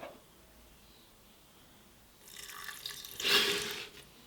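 Coconut water poured into a blender: after a quiet start, a soft trickle of liquid rises into a brief splashing gush, then tapers off, close and alone.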